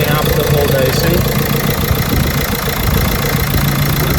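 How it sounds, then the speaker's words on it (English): A 2013 Renault Megane 1.5 dCi K9K diesel with a loss-of-power fault idles loudly and steadily close by, with a hose opened. Its rough, knocking mid-range drone stays constant throughout. "So you see how it affects the engine on idling there, just opening up the hose."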